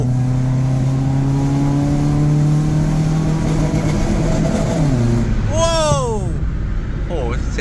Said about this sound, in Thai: นี่ก็เปิดกระจกหน้าต่างไว้หมดแล้วนะฮะเพื่อให้ได้ยินเสียงเครื่องอย่าง ชัดเจนนะครับ